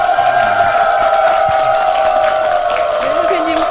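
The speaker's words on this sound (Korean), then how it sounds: "큰 박수로 맞이해 주십시오." A studio audience at a Korean holiday health talk show cheers and claps to welcome a guest acupuncture master onto the stage, a steady loud crowd roar running throughout under a sustained musical tone.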